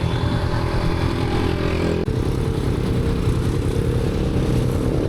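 Honda NX500 motorcycle on a morning ride to Gabaldon, its engine droning steadily and loud at close range throughout, with constant road and wind rumble and a brief dip partway through.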